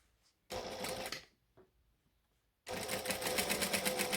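A sewing machine stitches darts into the back of a fabric piece in two bursts, a short run followed by a longer steady whir, with a quiet pause between them.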